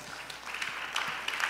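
Church congregation claps briefly during a Sunday service, a short, moderately quiet patter of hands lasting just over a second.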